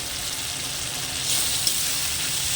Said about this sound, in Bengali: এবার আমি ভালো করে কষিয়ে নেব মশলা থেকে যতক্ষণ না তেল ছাড়ছে